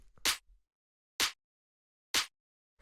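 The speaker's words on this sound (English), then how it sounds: "kind of sharp clap. I've got a bit of saturation on it." A punchy, sharp, saturated tech house clap sample hits three times at an even, slow pace, each crisp burst short and loud against silence.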